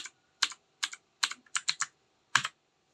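Keystrokes on a computer keyboard, the G key pressed repeatedly in a notepad window: seven or eight crisp, close clicks in short irregular bursts, with no talking.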